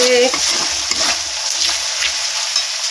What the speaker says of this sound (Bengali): মশলাটা কষানো হয়ে গেছে